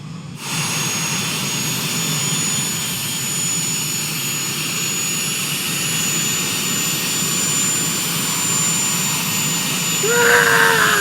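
Steady, loud jet engine roar from a flight simulator game, a constant airliner-style whine and rumble running throughout, with a brief rising tone near the end.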